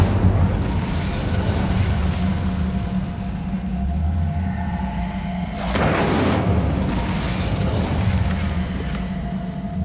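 Incendio fire spell blast in Hogwarts Legacy, loud rumbling booms with a sharp burst near the middle over a continuous low roar, no talking.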